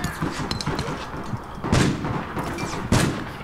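Gunfire from APB: Reloaded, an online urban shooter game, with a few sharp broadband blasts and a dense rattle of shots over busy game noise.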